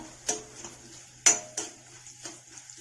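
A spoon clinks and scrapes against a pan while coconut pieces are stirred for a breadfruit roast: a few sharp, spaced metallic knocks, close and fairly quiet, over a low hum.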